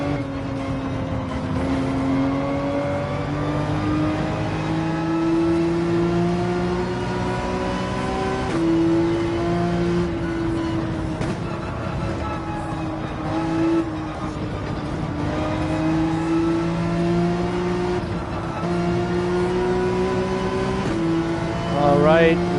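A race car in Gran Turismo 7 accelerates hard, its engine note climbing in steady pitch sweeps with gear changes and a sharp rev at the end, while a voice talks over it.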